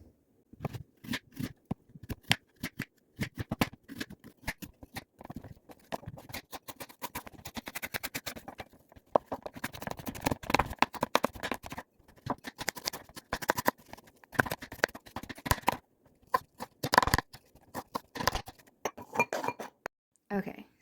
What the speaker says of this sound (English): Now we're going to peel and dice 4 apples.